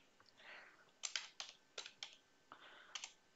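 Quiet, close typing on a computer keyboard while entering a map title, a few short bursts of quick key clicks separated by brief pauses.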